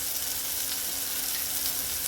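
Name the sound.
onions and tomatoes frying with spices in a pan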